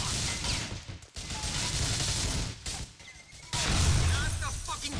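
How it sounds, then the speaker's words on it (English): Enemy gunfire crackles in bursts during a firefight in GTA IV: The Ballad of Gay Tony, harsh and noisy with brief gaps, swelling louder near the end, mixed with impacts and game noise. "Oh my god, they just keep shooting"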